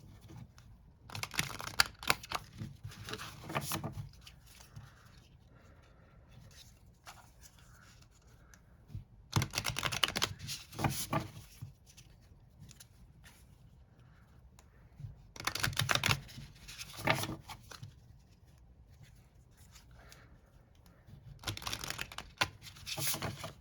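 A tarot card deck being riffle shuffled, with bursts of crisp card flutter and snapping in four separate rounds spaced several seconds apart, close and fairly quiet, with soft handling noises in between.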